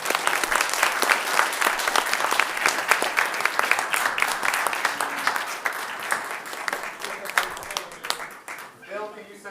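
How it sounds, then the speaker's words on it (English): Applause from the audience closing an annual church meeting, loud sustained clapping that slowly thins and fades toward the end as a voice begins to speak. "Take a big round of applause for Mr."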